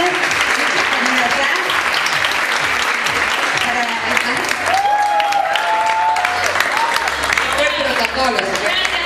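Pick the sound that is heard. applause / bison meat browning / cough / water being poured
applause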